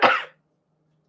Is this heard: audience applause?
no